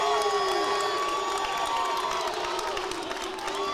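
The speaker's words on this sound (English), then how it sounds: "Lancer crowd doesn't like that one." A basketball crowd at a college men's game between Briar Cliff and MMU reacts loudly to a foul call, a dense, sustained roar of shouting and jeering voices that fills the space without letting up.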